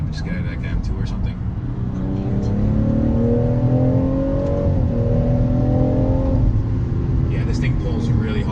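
A 2018 BMW M240i accelerates hard, its engine note rising steadily in a loud, continuous drone heard from inside the cabin, with a brief rise and fall in pitch near the end.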